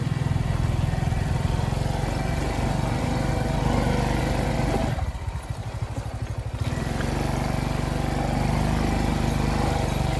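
A motorcycle engine drones steadily while riding along a roadside lined with tall grass, loud and close, dipping briefly in the middle before returning to a full buzzing hum.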